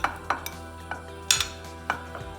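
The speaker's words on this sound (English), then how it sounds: "I'm just gonna quickly mix them" Strawberries, raspberries and blueberries tossed together in a baking dish, with a run of light clinks and taps of a utensil against the dish, sharp and close, spaced irregularly with no talking.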